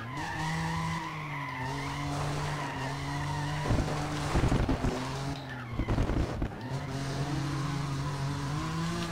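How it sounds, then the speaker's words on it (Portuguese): BMW M3 in the racing game Need for Speed The Run, its engine droning loudly with a steady tone, broken midway by bursts of tire skidding and revving as the car drifts. "O ronco dessa M3 aqui tá parecendo daqueles bug, galera."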